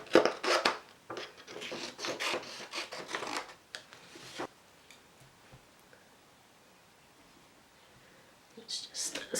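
Scissors cutting out a piece of stamped paper for a journaling craft: a run of close, crisp snips and rustles for about four seconds, then near quiet, with a few more paper sounds at the end.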